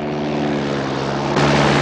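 An airplane engine in flight near mountains, a loud steady droning hum that jumps abruptly louder and brighter near the end as the throttle is pushed up.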